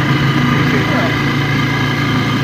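Motorcycle engine running steadily on a ride near Tarlac City, a continuous close drone with road rumble throughout, heavily mixed with people talking over it.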